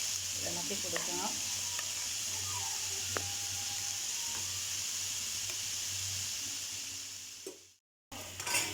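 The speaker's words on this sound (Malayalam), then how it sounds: "നമ്മുടെ ചിക്കനോട് വെന്ത് വരുന്നുണ്ട്. നമുക്കിതൊന്ന് ഇളക്കി കൊടുക്കണം." Chicken pieces for a masala chicken curry sizzle steadily in a pan while being stirred, a continuous close frying hiss with occasional spoon scrapes and clinks, briefly cutting out near the end.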